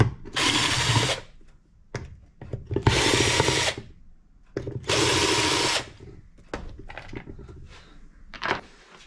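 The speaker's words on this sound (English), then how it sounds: "Impact driver." Impact driver loosening screws on a Yamaha Banshee motor during assembly work, three loud buzzing bursts of about a second each, separated by clicks and handling clatter.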